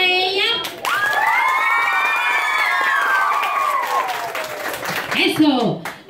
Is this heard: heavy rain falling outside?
no